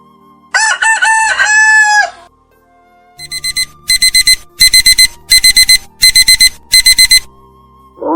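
A rooster crows once loudly, then after a pause an alarm clock rings in repeated sharp bursts, getting louder.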